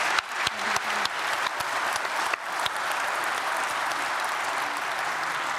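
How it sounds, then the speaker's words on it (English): A conference audience gives a closing panel a big round of applause, starting with a few distinct nearby claps and swelling into a continuous, fairly distant wash of many hands that carries on alone. "Please give them a big round of applause."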